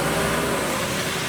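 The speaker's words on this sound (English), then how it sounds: "Little burnout going on as well." Car doing a burnout at a rainy evening car meet: a continuous, roaring rush of engine and tyre noise, steady and fairly loud throughout, with no voices.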